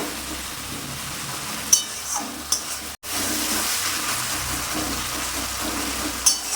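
Fish curry masala for ar tangra kalia being stirred in a pan over continuous broad sizzling, with a few sharp scrape clicks, a brief cutoff near the middle, then steady frying noise.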